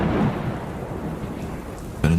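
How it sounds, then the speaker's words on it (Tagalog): Steady heavy rain with a deep rumble of thunder through a stormy night, a sharp louder crack of thunder near the end, no voices. "Mukhang masama ang panahon. Parang lalakas pa ang ulan."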